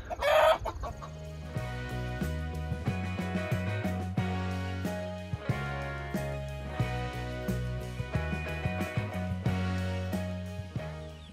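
Ancona chickens in a farm coop clucking steadily, close and clear, with repeated rhythmic calls and a brief louder squawk at the start, no talking.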